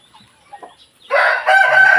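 A breeder rooster crows loudly and close by, its drawn-out call rising after a few soft clucks, with no talking over it.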